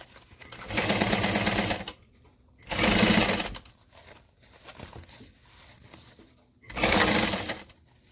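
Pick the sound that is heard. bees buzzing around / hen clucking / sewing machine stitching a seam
sewing machine stitching a seam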